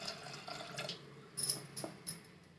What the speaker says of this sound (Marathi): ज्वारी बुडेल इतपत पाणी टाकते आता।